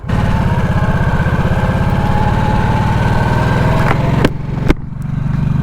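A 2024 Harley-Davidson Nightster Special 975 motorcycle engine drones steadily while riding, close and loud with an even low throbbing pulse, then the tone drops off near the end with a couple of sharp bumps before settling again.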